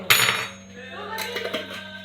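A spoon stirs brioche dough made with flour and yeast in a bowl, starting with a bright metallic clink and followed by softer scraping and knocking against the bowl.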